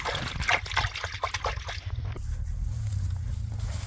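Spring water trickles and splashes over stone near an old site in the Lithuanian countryside, with a bright, irregular pattering that drops to a softer, steady flow with low rumble halfway through.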